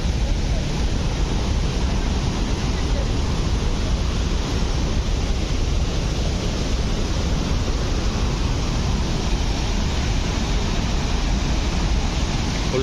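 Steady, loud roar of Athirappilly waterfall with dense spray, a continuous broadband rush that stays constant throughout with no pauses.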